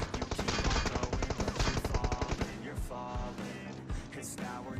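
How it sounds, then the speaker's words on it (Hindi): Gunfire in the video game PUBG Mobile: loud, rapid automatic bursts and single shots in quick succession, then sparser shots and game effects. "अब मेरे ऊपर दूसरे घर से फायर हुआ"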